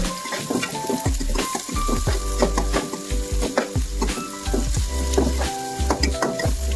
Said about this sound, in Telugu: సన్నగా తరిగిన ఉల్లిగడ్డలు, అల్లం ముక్కలు, పచ్చిమిర్చి ముక్క ఇలా వేసుకొని ఉల్లిగడ్డలో కొంచెం బ్రౌన్ కలర్ వచ్చే వరకు వేయించుకోవాలి.